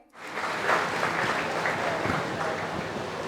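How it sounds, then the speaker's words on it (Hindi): An audience at a Hindi exam-preparation seminar applauds a departing guest, with steady, dense clapping that holds at an even level throughout. "आप सभी तालियां बजा करके सर का आभार व्यक्त करें"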